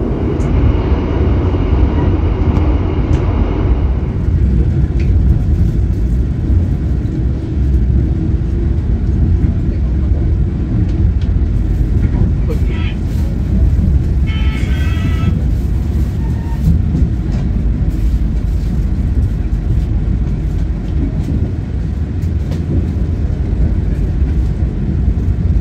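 Interior of a moving economy-class passenger train on an Indonesian railway, a loud continuous rumble of wheels and carriage with rattling and a brief brighter squeal midway, no clear talk.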